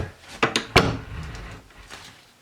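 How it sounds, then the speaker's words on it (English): A door swings shut with a couple of quick wooden knocks and a solid thud, followed by a brief fading rumble. "actually use the towel to close the door"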